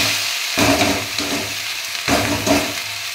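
Water spinach sizzles and hisses in a hot pan with fried lentil dumplings, and two louder bursts of sizzling come as the greens are tossed and stirred, with no voices.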